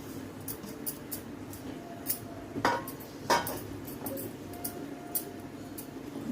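Rice flour dough for ukdiche modak stirred in a pot, with scattered scraping clinks of a utensil against metal, close and irregular, a couple of sharper knocks in the middle.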